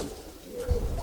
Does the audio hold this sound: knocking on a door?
no